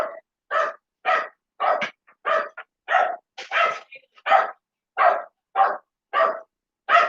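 Dogs bark in a steady, evenly spaced series of about a dozen sharp barks. The barking is loud and close, with nothing else in between.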